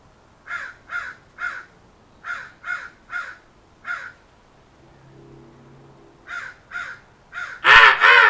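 A crow caws outdoors in short, evenly spaced bursts, three, three, one, then three more, fairly close and loud, with a brief low hum between calls and a sharp harsh call at the end.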